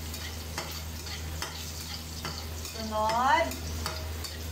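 Garlic sizzles and fries steadily in a hot pan with occasional stirring scrapes, and someone speaks briefly over the cooking.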